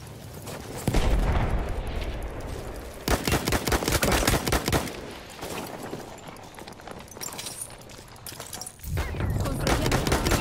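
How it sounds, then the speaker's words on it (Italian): Enemy machine gun fire in an online multiplayer shooter, rattling in several loud rapid bursts separated by pauses, with other battlefield noise between them. "Mitragliatrice nemica localizzata!"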